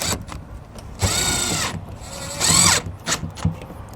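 Power drill driving screws into an RV entry door locking latch on a 2020 K-Z Sportsmen trailer, two short whirring bursts with clicks and handling noises between them, close and loud.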